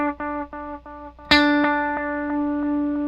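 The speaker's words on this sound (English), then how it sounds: "If you look at your classic chorusing sound, what's happening is you're pitch shifting the echo return up and down." An electric guitar runs through the chorus of an Electro-Harmonix Deluxe Memory Boy analog delay pedal: a few muted plucked notes, then a loud struck chord ringing out with a wavering, shimmering modulation and no talking.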